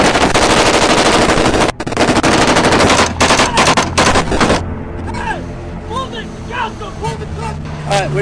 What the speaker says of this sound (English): I'm laying down fire.